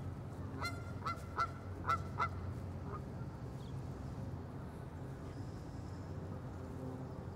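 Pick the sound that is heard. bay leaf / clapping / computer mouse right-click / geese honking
geese honking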